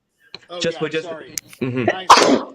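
A sharp sneeze bursts out near the end, loud and close, after a few seconds of brief conversational talk from people.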